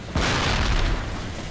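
A C4 charge detonating on a bridge in the video game Cold Fear: a sudden loud boom followed by a sustained roaring, rumbling blast for about a second before settling into lingering low noise.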